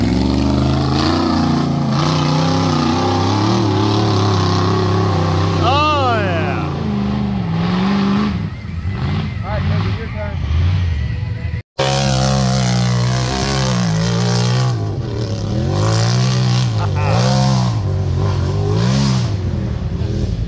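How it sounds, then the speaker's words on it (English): A rock bouncer off-road vehicle climbs a dirt hill, its engine revving hard in loud surging bursts that rise and fall in pitch over a constant rumble, with people talking and shouting nearby. "That's the one the rock bouncer just made it up."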